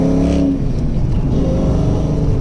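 A loud Foxbody Mustang 5.0 engine with air ride hums steadily from inside the car while driving, a deep continuous drone with a slight rise in revs at the start.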